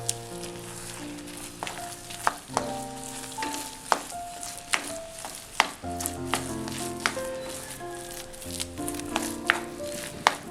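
Grated coconut mixed into egg upma with vegetables in a frying pan, a spoon clacking and scraping the pan in repeated sharp knocks over a continuous sizzle, fairly close.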